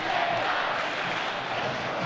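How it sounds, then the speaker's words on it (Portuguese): Dense stadium crowd roar at Pacaembu, Santos fans chanting for the young Neymar's debut, a steady, loud wash of massed voices filling the whole clip with no break. "Pacaembu inteiro agora pedindo o garoto Neymar"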